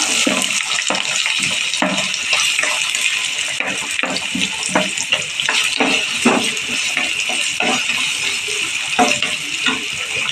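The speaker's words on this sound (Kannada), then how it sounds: "ಎಣ್ಣೆ ಕಾದಿದೆ, ಈರುಳ್ಳಿ ಹಾಕೋತಾ ಇದ್ದೀನಿ." Onions drop into hot oil spiced with cardamom, cloves and cinnamon and fry with a loud, dense, continuous hiss, speckled with constant sharp crackles and pops. No one speaks.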